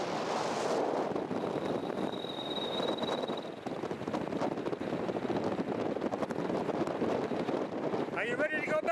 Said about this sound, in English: Man, oh man, it's windy up here.